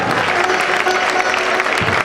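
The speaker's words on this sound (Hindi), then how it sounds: "इस कलश की स्थापना का सौभाग्य किया है, एक बार जोरदार ताली हो जाए" A crowd bursts into loud, dense, continuous applause at a Chaturmas Kalash installation ceremony in Kishangarh. The clapping holds steady throughout.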